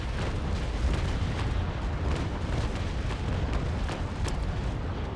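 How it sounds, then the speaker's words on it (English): Naval Action ship cannons firing a broadside in a Belle Poule duel, a steady rumbling barrage of distant booms rolling one into another at an even, loud level with no pauses. "I better prepare for my cannons"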